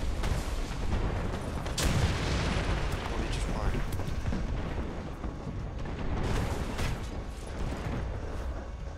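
A tank cannon fires in a video game about an armed go-kart, one sharp boom standing out early against a dense, continuous roar of rumbling engine and battle noise that stays loud throughout.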